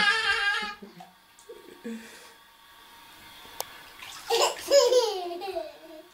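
A child is bathed as water splashes and pours in a tub, with bursts of sloshing near the end; a child and an adult talk and babble between the splashes.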